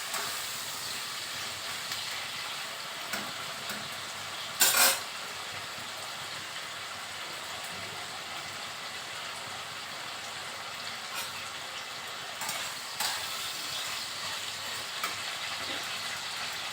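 Shrimp frying lightly in a pan, a steady soft sizzle and hiss running throughout, fairly quiet, with a few brief louder crackles and a sharp spatter burst near the middle.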